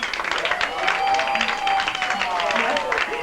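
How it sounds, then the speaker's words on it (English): An audience at a 1989 orchid show applauds the night's final act, dense clapping filling the room and mixed with crowd voices and cheering throughout. "let's have a big fat warm round of applause for the last act of the night."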